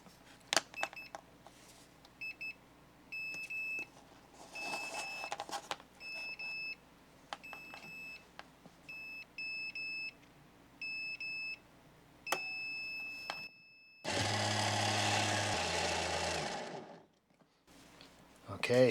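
A Ryobi jump starter beeps through a warm prime, giving repeated short electronic beeps in irregular clusters over quiet handling clicks, followed by a louder burst of broadband noise near the end.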